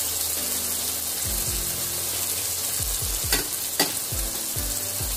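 Spices such as turmeric and red chilli powder stirred in a frying pan, a steady sizzle with repeated scraping strokes of the spoon and a couple of sharp clinks, close and fairly loud, no talk.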